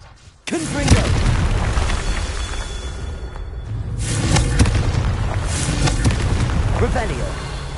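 Confringo blasting spell explosions in Hogwarts Legacy, heavy booming blasts with a long rumbling roar, loud and close, in several bursts under game voices.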